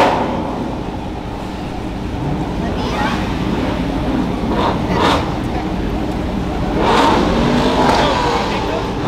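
A modified Toyota Supra accelerates and revs hard with a loud, rough, continuous roar and rising surges, mixed with wind-like rushing noise.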